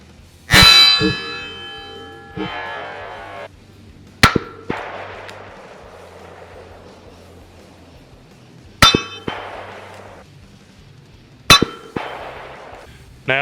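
Four .357 Magnum rounds strike an AR500 steel target plate at a shooting range: sharp, loud metallic clangs with bright ringing decay, spaced several seconds apart, each preceded or joined by the crack of the shot.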